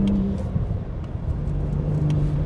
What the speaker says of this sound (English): the amount of power that comes on as soon as you mash the throttle